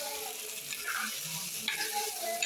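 Food sizzling in a frying pan while being stirred, a continuous soft hiss with occasional scraping strokes, close up but fairly quiet, no voices.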